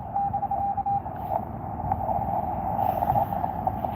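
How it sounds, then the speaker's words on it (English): A ham radio keyer sends slow Morse code as a steady single-pitch sidetone, evenly spaced beeps heard faintly over low background noise on a portable QRP station outdoors. "I'm having to do slow Morse code because the keyer is resetting on me because of SWR."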